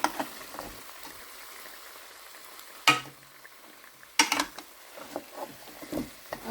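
Nihari masala fries in hot oil in a pan, a soft, steady sizzle broken by two sharp bursts of spattering, then scattered stirring scrapes.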